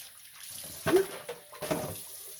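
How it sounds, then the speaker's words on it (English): Hands are rinsed under a running kitchen tap while turkey wings are prepared, giving a faint, soft water splash with two brief louder gushes as the hands move through the stream. "Rinse our hands off."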